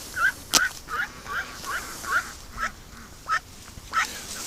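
A duck quacks repeatedly in short, sharp calls at a fairly even pace, close and clear against a soft outdoor background, with no voices.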